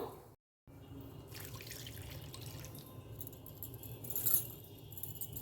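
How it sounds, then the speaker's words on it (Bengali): Water pours and trickles into a pan of vegetarian Bengali papad curry on the stove, a steady close splashing that runs for several seconds after a brief silence. "জলটাও আমি অ্যাড করে দেবো"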